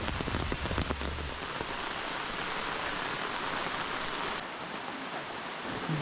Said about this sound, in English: The sound of mountain streams.